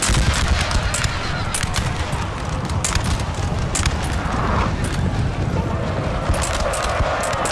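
Musket volleys from massed infantry in Napoleon: Total War, a dense continuous crackle of overlapping shots with sharp louder reports standing out across a battlefield.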